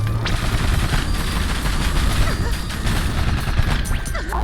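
Rapid gunfire from the 2D action game Rusted Moss, a dense continuous stream of loud shots and crackling impacts with no pause.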